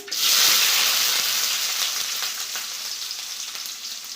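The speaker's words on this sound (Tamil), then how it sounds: "கடுகு நல்லா பொரிஞ்சிட்ருக்கு வெங்காயம் சேர்த்துக்கலாம்" Onions go into hot oil with already popped mustard seeds and set off a loud, close sizzle that bursts up at once and then slowly eases into a steady hiss, with no one speaking.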